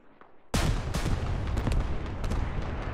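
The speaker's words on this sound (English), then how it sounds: "It wasn't the rocket barrage, it was a couple of JDAMs." A JDAM bomb airstrike explodes on an insurgent stronghold in Iraq. After a short quiet stretch, the blast hits suddenly and loud, then a heavy, sustained roar and rumble continues to the end with no voices.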